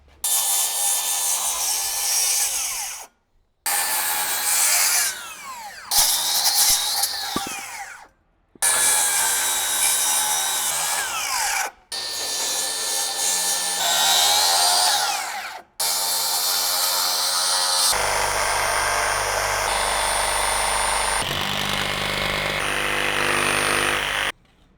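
A power tool cuts a notch out of a wooden porch post in loud, close bursts, the whining blade stopping and restarting several times before a longer final run.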